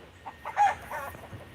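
A rooster crows at a distance, a short, faint call rising briefly above quiet outdoor background, with a few soft clucks around it.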